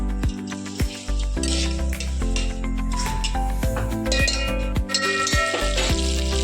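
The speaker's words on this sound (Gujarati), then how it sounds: "હવે આપણે છે ને માખણ નાખી દઈશું વઘારવા હાટુ મસાલામાં." Butter melts in a hot pan for tempering spices while making chutney for momos. It gives a steady, close sizzle and fry with scattered clinks and scrapes of stirring, and no talk.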